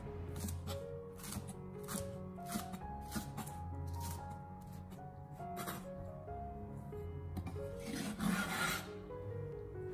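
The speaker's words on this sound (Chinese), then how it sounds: "清洗干净以后，将它改刀切成小葱段。" A knife chops cleaned green onions into short segments on a cutting board, producing quick, evenly spaced crisp cuts, fairly quiet and close, over soft background music.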